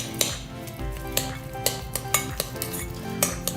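Aubergine and feta appetizer mixed in a bowl, sharp irregular clinks and scrapes of a utensil against the bowl, about eight distinct knocks over a soft mushy stirring, close and without talk.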